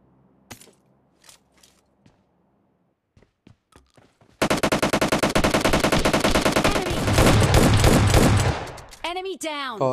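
Rapid automatic gunfire in PUBG Mobile Lite erupts after a few sparse quiet taps, then loud dense bursts hammer on without pause to the end, with sharp echoing shots near the close.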